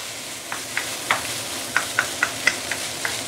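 Steady frying sizzle of fish bones in a hot pan over high heat, punctuated by a quick series of sharp metallic scrapes and taps as they are stirred.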